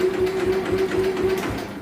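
The engine of a Simplicity 3212H garden tractor is being cranked over by the starter without firing, giving a steady, close, rhythmic churning with an even pulse throughout.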